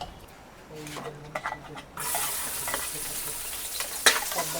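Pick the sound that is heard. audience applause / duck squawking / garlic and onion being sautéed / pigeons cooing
garlic and onion being sautéed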